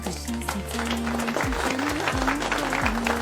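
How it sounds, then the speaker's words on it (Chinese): Classroom of students clapping together in congratulation for a classmate who took first place, a steady broadband patter running throughout, with background music tones underneath. "大家鼓掌。"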